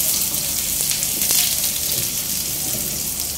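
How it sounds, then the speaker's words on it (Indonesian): Shallots and garlic sizzle in hot oil over medium heat, a bright continuous crackle with a few sharper pops, close and steady throughout. "saya akan tumis bawang merah dan"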